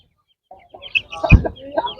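Roosters and hens cluck close by in a short busy burst at the Kaptan Bazar bird market in the rain, with a sharp thump partway through and background clatter.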